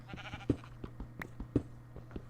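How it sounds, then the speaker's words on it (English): A sheep in Minecraft gives a short bleat at the start during a hardcore survival run, followed by a series of sharp clicking footsteps or block sounds over a constant low background hum. "I guess that's a sheep."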